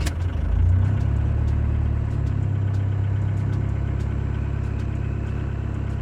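A TDI diesel car engine cranks and fires up, surges briefly, then settles into a steady, rumbling idle with faint rhythmic ticking, close and alone without talk.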